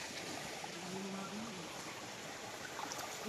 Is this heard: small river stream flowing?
yes